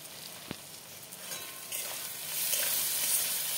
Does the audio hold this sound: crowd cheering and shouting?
no